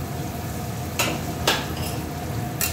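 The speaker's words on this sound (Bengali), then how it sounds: "আলুটা যেহেতু সেদ্ধ হতে সময় লাগে, সেই জন্য আলুটাকে আমি আগে" Potatoes fry in hot oil in a pan with a steady sizzle, broken by a few sharp scrapes and clinks of a spatula being stirred.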